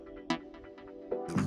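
A minimal house synth passed through delay, tremolo, a pitch shifter and EQ with the highs and lows cut gives short pulsing plucks with echoing repeats and a couple of brighter accents, alone and close.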